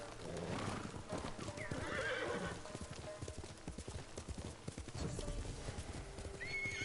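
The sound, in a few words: horse galloping and neighing in video game Ghost of Tsushima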